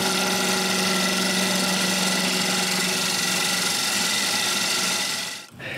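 A wood lathe spins a glued-up blank while a tool cuts its uneven ends, giving a loud, steady whirring rasp that runs continuously before dropping off abruptly near the end.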